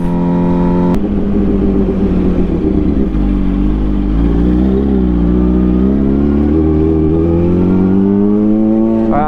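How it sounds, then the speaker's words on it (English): Car engine held at a steady drone that rises into a climbing rev toward the end, loud and close, with a harmonic whine over a deep rumble. "I give him a little rev"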